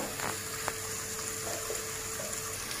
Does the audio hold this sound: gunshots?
no